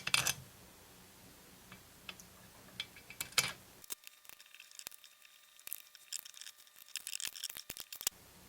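Cylinder bolts on a Stihl MS291 chainsaw are worked with a ratchet, giving quiet clicking ticks in short runs with pauses between them, some sharper clacks of metal against metal, and close, fairly faint sound.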